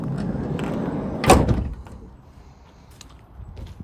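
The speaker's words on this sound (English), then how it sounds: "Decent opening the side door." Side sliding door of a 2018 Ford Transit Custom 2.0 TDCi EcoBlue 300 Limited van being opened, a single loud rolling clunk close by, with a long scrape and rumble afterwards fading into quieter handling sounds.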